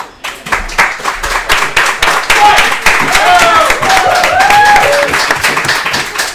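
Bar audience clapping in a show of support for Michael Jordan, a burst of many hands that swells into dense applause with cheers and whoops, close and loud, with a voice briefly over the start.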